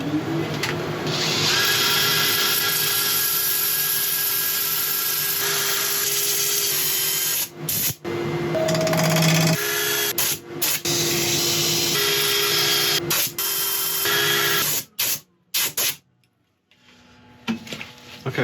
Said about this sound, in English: I'll set up for sanding.